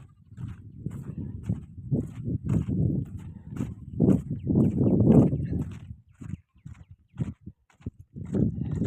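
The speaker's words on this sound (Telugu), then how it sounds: "ఇగో చూడండి మా ఎలా ఉరుకుతున్నాయి గొర్రెలు" A flock of sheep runs across open ground, their hooves making a close, low, uneven patter and thumping that swells and fades in bursts, with faint background noise between.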